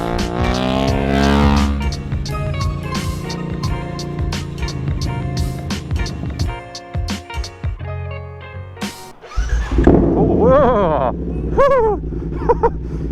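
A BMW F 900 R Cup Racer motorcycle test mule revs hard on a race track, its exhaust crackling with rapid pops and bangs between rising and falling engine notes, with a voice briefly exclaiming over the engine.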